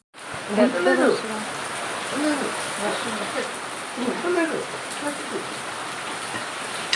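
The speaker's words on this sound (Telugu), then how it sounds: "వర్షం పడతా ఉంది" Steady rain patters throughout, the day before Cyclone Michaung, as a few people talk quietly in the foreground.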